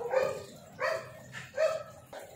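A household dog barks three or four times in a steady, evenly spaced series, moderately close but fairly quiet, with no talk over it.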